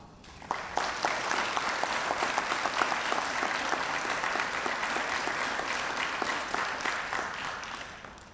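Applause from an audience at an elementary school sixth-grade graduation ceremony: steady, sustained clapping from many hands at moderate distance, starting abruptly and holding evenly for several seconds.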